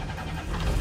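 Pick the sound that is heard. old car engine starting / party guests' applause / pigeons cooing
old car engine starting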